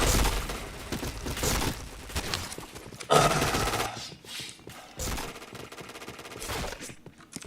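Rapid bursts of gunfire ring out in a shooting video game, with clustered shots and sharp impacts separated by short lulls, loud and close.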